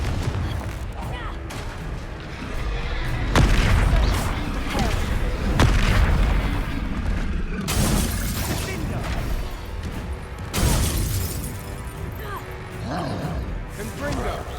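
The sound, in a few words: Confringo fire spell explosion, from video game Hogwarts Legacy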